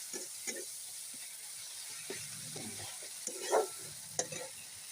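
Tomato curry with mustard is cooking in oil: a soft, steady sizzle runs underneath, broken by occasional spoon scrapes and stirring clatters, near and moderately quiet, with no speech.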